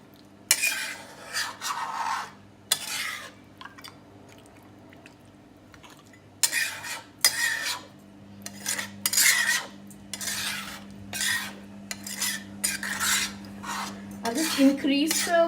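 A ladle scrapes and rubs in bursts around the inside of a pot of mutton curry, with metallic clatter and pauses between strokes over a low steady hum, close up and with no talk.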